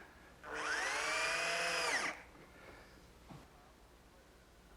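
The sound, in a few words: drill driving drywall screws into oak cabinet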